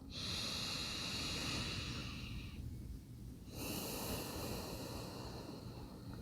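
Slow, deep breathing during a slow-flow yoga session: a long, close, airy breath sound that fades briefly near the middle before the next breath swells in, with no talking.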